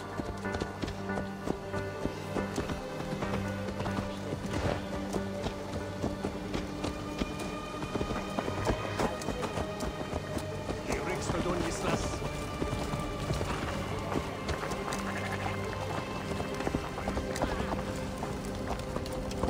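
Horse hooves pounding at a gallop in Assassin's Creed Valhalla, a steady rapid clatter under dense game ambience and music, with voices speaking over it.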